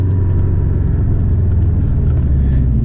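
A Porsche 718 Boxster GTS engine drones at a steady, loud low rumble from inside the car, a continuous even tone with no talk.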